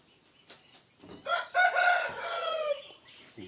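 A rooster crows loudly once in a chicken and duck coop on a farm, with scattered clucks and small rustles around it.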